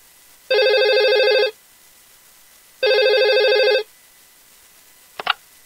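Telephone ringing in a Korean home as a new-neighbour call comes in, with two long, steady electronic rings a second apart and a brief faint click at the end, alone without talk.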